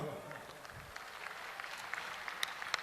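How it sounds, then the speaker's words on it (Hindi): An audience at a large religious gathering claps in a loose, scattered burst, moderately distant, with a few sharper individual claps standing out toward the end. "मैं एक बार कहूंगा हमारे दाऊ दादा के लिए ताली बजा दो।"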